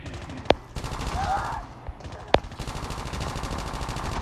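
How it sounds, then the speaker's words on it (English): Two loud, sharp gunshots from Call of Duty Mobile ring out about two seconds apart over a steady bed of in-game background noise. "I just like shooting people before the match"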